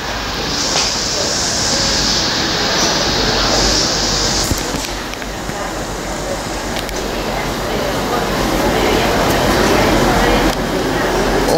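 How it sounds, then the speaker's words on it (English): Train at Manchester Piccadilly station, a loud continuous rumble of rolling stock with a few sharp clicks and clanks and a brief high squeal early on, with faint voices in the background. "My train to Manchester."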